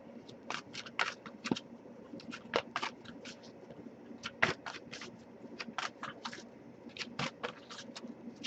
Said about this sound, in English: I'll shuffle a bit more